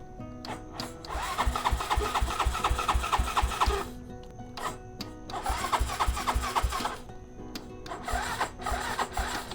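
Honda Ruckus scooter with a dead battery cranking: three bursts of rapid, labored starter whirring, each lasting a second or more, separated by short pauses, without the engine catching.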